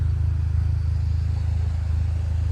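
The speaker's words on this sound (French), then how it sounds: "on vous remonte une dernière fois la voiture" A Volkswagen Polo 6 GTI drives with a steady, deep engine rumble, close and loud, holding an even low drone throughout with no voices.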